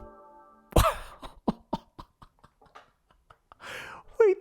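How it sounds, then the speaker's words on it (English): A girl coughs in the video game Silent Hill 2, a strong opening cough followed by a series of softer, fading coughs and throaty breaths, with a brief vocal sound near the end. "Oh, she's coughing."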